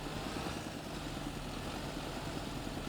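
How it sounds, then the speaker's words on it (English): A big tractor idles at a grape vineyard, its engine giving off a steady, continuous low rumble and hum at an even level throughout, with no voices. "A big pan tractor and a big weeder for this contract"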